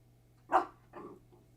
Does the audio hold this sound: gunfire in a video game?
no